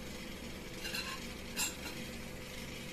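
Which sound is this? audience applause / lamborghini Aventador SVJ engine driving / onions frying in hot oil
onions frying in hot oil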